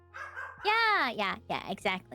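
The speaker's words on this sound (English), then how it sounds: "if you hear him like just losing his mind in the background." A dog barks and yips excitedly somewhere in the room behind a conversation, the agitated bursts overlapping with talking voices.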